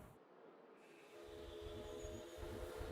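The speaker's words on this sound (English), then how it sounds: "Okay, that train's on its way." A train rolling along in the Planet Zoo video game, heard as a faint low rumble that swells after a moment and carries on steadily under a soft, thin hum.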